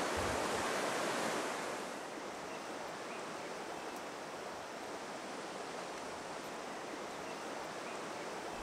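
Water of the Estéron river flowing, a steady broadband rush that is loudest in the first second and a half and then settles into an even, continuous wash with no voices.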